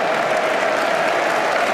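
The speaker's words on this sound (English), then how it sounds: "Man City fans are applauding the Watford fans" Football crowd at the 2019 FA Cup final between Manchester City and Watford, fans applauding in a steady, dense wash of clapping that fills a large stadium without pause.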